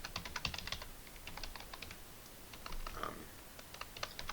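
Keys clatter on a computer keyboard as a password is typed at a Debian login screen, quiet rapid taps in short bursts with brief pauses; no talk.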